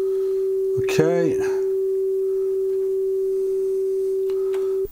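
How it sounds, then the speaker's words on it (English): Cassette level test tones on playback: a loud, steady pure tone holds unbroken throughout, while a person briefly speaks over it near the start. "Level tones."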